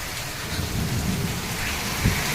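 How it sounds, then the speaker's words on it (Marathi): Heavy rain pours onto a house slab roof in a dense, roaring wash while deep thunder rumbles underneath, close and loud, with no voices. "खूपच जोराचा पाऊस चालू झालेला आहे"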